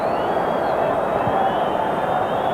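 A large football crowd at a Napoli v Juventus match roars in a steady, dense wash of noise, with a commentator's voice running over it.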